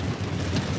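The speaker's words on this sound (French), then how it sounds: "il pleut" Heavy rain falls at night, a dense, steady hiss of drops with no gaps or voices through the whole moment.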